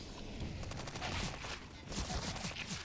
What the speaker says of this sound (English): SMGs overpowering the pistols, and that's how it should be